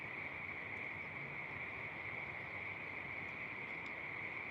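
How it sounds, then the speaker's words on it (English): A steady high-pitched chorus of frogs calling continuously at night, faint and even throughout, with no talk over it. "Frog song."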